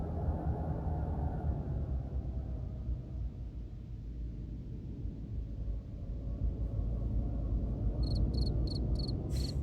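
A cricket chirping sound effect: a short run of evenly spaced, high chirps near the end over a steady low rumble.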